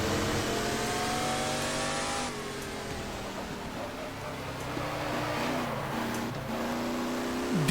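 A GT Legends racing car engine lifting off the throttle: steady high revving drone that drops as the throttle eases, with shifting pitch and crackle near the end.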